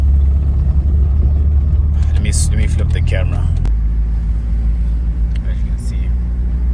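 Car engine rumbling steadily while driving, a loud low drone that shifts pitch partway through, with a person talking over it.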